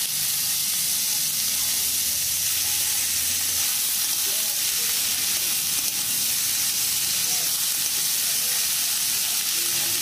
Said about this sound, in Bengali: 5 ফোড়ন ফুটে এলে সবজিটা দিয়ে দিলাম।